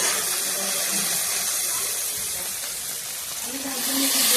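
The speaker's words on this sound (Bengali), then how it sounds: "পেঁয়াজগুলো ফ্রাই হয়ে গেছে, এর মধ্যে মশলা ছেড়ে দিয়েছি।" Spices sizzling with fried onions in a pan for a Bengali fish curry, a steady broadband hiss running throughout at moderate level and swelling slightly near the end.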